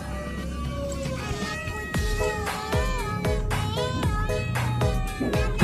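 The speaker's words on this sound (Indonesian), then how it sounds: "Inilah momen kucing oren ketika dia lagi sendirian." An orange cat meows over and over in a steady run of drawn-out, close, fairly loud calls, with no talking around it.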